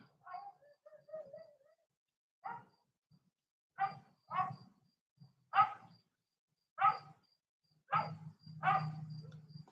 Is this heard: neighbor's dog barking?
yes